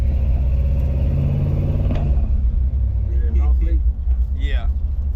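A 1972 Impala's engine rumbles loud and close, revving before settling to a deep idle, with people talking over it near the end.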